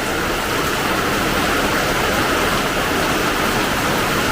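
Heavy rain pours down steadily outside a home, a dense, unbroken wash of noise that stays loud and even throughout, with no voices.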